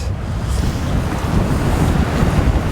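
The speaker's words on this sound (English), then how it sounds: "On a windy day like today" Steady wind at Lough Muckno roars and buffets the microphone with a low rumble, continuous and loud, with no voices.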